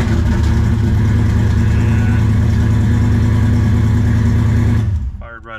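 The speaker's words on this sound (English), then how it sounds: "So we've got it in park, put on the brake, fire it up." A V6 engine with Holley EFI runs steadily in park, a loud, even idle that holds for several seconds before cutting off abruptly.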